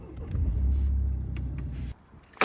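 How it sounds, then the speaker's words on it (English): A car engine idles with a steady low rumble close by, then cuts off abruptly near the end, leaving a brief quiet before a short clunk. "we can turn on the ignition and turn it off"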